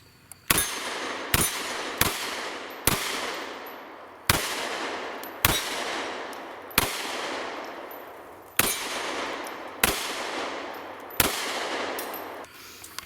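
A SIG P365 pistol firing about a dozen sharp, separate shots at a steady pace, each crack followed by a ringing decay where rounds strike steel targets, loud and close with no talking.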